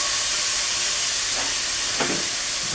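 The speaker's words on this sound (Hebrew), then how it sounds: "נתחיל עם טיגון של הבצל, הג'ינג'ר והשום" Onion, ginger and garlic frying in hot oil in a pan, a loud steady sizzle and hiss with a brief bubbling burst near the end, no talk.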